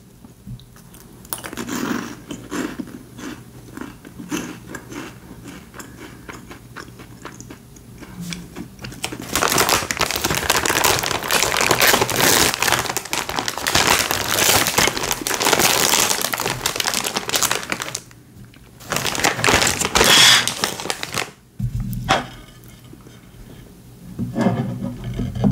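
Crunchy mint chocolate Bananakick snacks are chewed close to the mic in an eating show, with dense crisp crackling bites building into long, loud stretches of crunching broken by brief pauses, and no talking.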